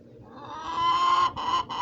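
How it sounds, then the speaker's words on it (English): A chicken clucks nearby in a few loud, drawn-out squawks, the last two short and choppy, with no talking over it. "We can't have no chicken over here, dog."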